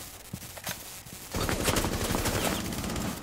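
Bursts of automatic gunfire in Rainbow Six Siege, a few scattered shots followed by a loud, sustained rapid volley that continues to the end.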